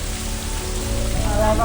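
Monsoon rain falling on surfaces near Muchkundi Dam in Ratnagiri, a steady dense hiss of drops, close and fairly loud, with a voice faintly present toward the end.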